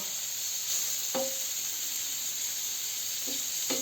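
Fish fries in oil in a pan with a steady, even sizzle and hiss throughout. A couple of soft clinks or stirring touches cut in briefly, and no one speaks.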